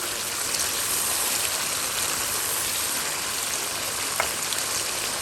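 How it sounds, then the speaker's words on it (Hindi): Mutton karahi fries in oil in a cooking pot, giving a steady, even sizzling hiss that carries on unbroken throughout, with no voices. "अब देखिए गोश्त हमारा जो है वो देखिए अच्छे से फ्राई हो गया, भुन गया हमारा अच्छे से गोश्त।"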